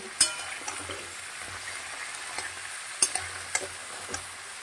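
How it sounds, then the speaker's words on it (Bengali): Vegetables and jackfruit seeds stirred together in a pan for a vegetarian curry, a soft steady sizzle under a few sharp clinks and scrapes of the spoon against the pan, close and moderately quiet. "এবার ভালো করে কিন্তু আমরা এগুলোকে মিশিয়ে নেব।"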